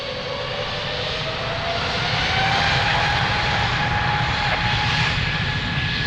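An Airbus A320 jet takes off from runway 02 at Lisbon Airport, its engines a loud, steady roar that swells slightly, with thin whining tones gliding upward over the rumble. No voices.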